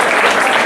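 A brief, dense burst of hand clapping from a comedy club audience at the Milwaukee Improv, steady and full throughout with no voices standing out.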